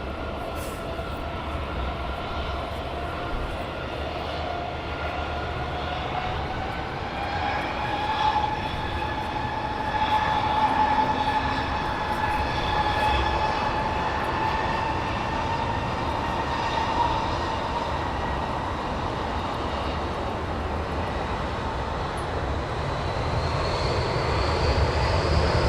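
An airliner taxis out for an intersection takeoff at Heathrow, its engines a continuous steady roar with slowly shifting tonal whines that swell slightly mid-way, heard from a distance, with no one talking.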